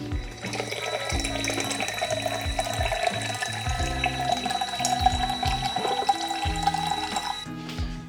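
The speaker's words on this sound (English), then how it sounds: "So I take my mason jar, very simple. It's an old pasta sauce jar, you guys may have recognized. And I fill it with water." Tap water pours steadily into an old glass pasta sauce jar used as a mason jar, a continuous close splashing and rising fill with no talking.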